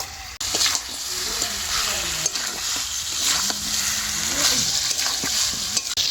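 Spiced chicken, seasoned with black pepper and Kashmiri chilli powder, fries loudly in oil as it is mixed in the pan, a constant close sizzle with scraping stirs throughout.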